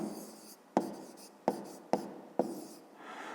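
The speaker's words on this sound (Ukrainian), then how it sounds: "Добре, записуємо тоді відповідь." Handwriting an answer with a pen on paper: four or five distinct taps as the pen lands, each followed by a short scratchy stroke, close and quiet with no talking.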